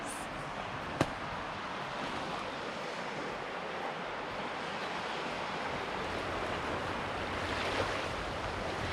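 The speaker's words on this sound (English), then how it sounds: "The sound of the water is creeping me out." Steady washing and lapping of water in mangroves with a breezy hiss, fairly faint and continuous, with one brief click early on.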